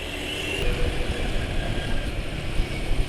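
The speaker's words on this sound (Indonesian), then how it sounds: "Suara mesin juga sudah mulai lebih senyap ya." A two-stroke engine runs on oil treated with the green-bottle Evalube 2T additive, giving a steady, continuous mechanical drone with a fine buzzing texture. It stays at an even, moderate level for the whole stretch, close by, with no voices over it.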